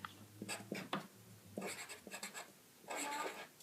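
A hand writes an equation in short scratchy bursts of pen or pencil strokes, close and quiet, with brief pauses between strokes.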